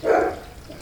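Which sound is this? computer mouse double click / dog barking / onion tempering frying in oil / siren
dog barking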